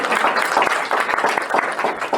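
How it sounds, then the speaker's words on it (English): Audience applause fills a women's election campaign event in Canada, a dense, steady patter of many hands clapping for a couple of seconds, fairly close and continuous. "So we can give them a round of applause for that."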